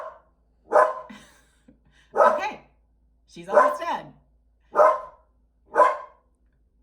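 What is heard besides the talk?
dog barking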